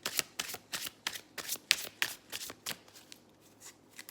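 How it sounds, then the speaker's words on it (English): A deck of tarot cards gets a hard shuffle, with a quick run of crisp riffling bursts close to the listener. The bursts grow softer toward the end. "Good hard shuffle."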